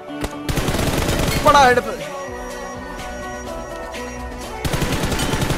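A suppressed UMP fires in rapid bursts in BGMI Lite, a mobile battle royale game, with quick clattering shots under excited talk and game sounds, followed by a calmer stretch before noise returns.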